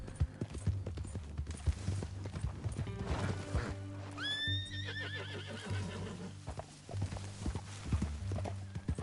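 Hooves clip-clop steadily as a horse gives a loud, shrill neigh midway, with an ambient hum underneath and no speech, in the video game Red Dead Redemption 2.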